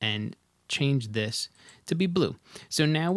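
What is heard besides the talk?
No distinct noise like a dog, phone or traffic.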